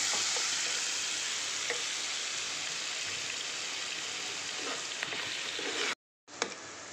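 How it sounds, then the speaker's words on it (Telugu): Onion paste frying on a low flame for fish curry, a steady dense sizzle with faint stirring clicks that cuts off briefly near the end, then resumes. "మిగిలిన ఉల్లిపాయ పేస్ట్, సిమ్లోనే చేసుకోండి."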